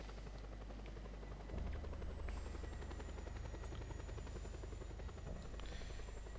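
Helicopter in the Just Cause 2 video game, its rotor thudding steadily and continuously at moderate distance with a faint high whine, no voices.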